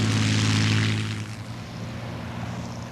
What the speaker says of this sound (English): Engines were started, and the 1st Provisional Air Brigade took off for a mission